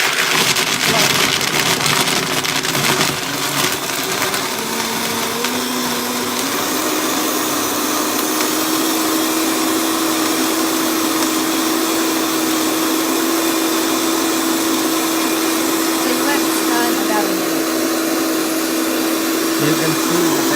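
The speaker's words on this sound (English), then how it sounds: "So with the Vitamix, you don't turn it on all at once." A Vitamix blender grinds almonds, a loud continuous whir whose pitch rises and then holds steady as the motor settles. It runs alone throughout.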